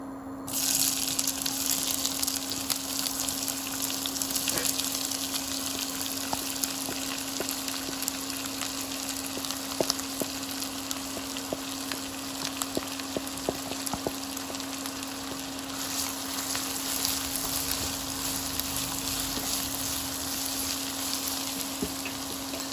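Onions sizzle in a pan of hot oil over a high flame, a steady close crackling hiss running the whole time with scattered small pops, no voices.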